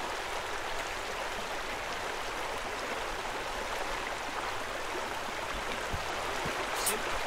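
In the video game Pool Cleaning Simulator, water pours steadily into a pool, a constant soft rushing stream with faint speech now and then.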